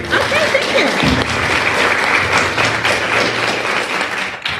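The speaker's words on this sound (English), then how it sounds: "Keep the claps coming." A school audience applauds at a met-and-greet for the new principal of Alex Sanger Preparatory. Sustained, lively clapping from a crowd runs for several seconds, with faint voices mixed underneath.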